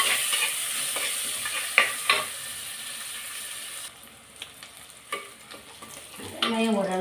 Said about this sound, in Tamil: கருவேப்பிலை நல்லா வதக்கிடுவேன்.